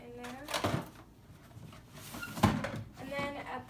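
A bottom drawer in a bedroom storage unit slides open with two distinct scraping bursts, the first near 0.6 s and a louder one near 2.5 s, against a quiet room.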